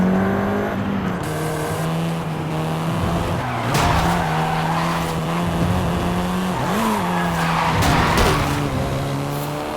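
A 7th-generation Volkswagen Golf R in the racing game Forza Horizon 5 drives with a loud steady engine drone, its pitch dipping and rising as tires squeal through a long skid.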